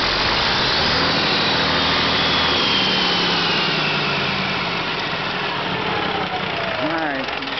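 Caterpillar diesel generator runs steadily at close range, a loud continuous engine drone that dominates throughout, with someone talking over it.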